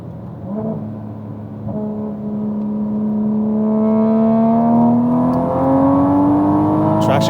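A 700-horsepower MK5 Supra engine pulls hard under full acceleration, its loud, steady drone climbing smoothly in pitch over several seconds, close and continuous.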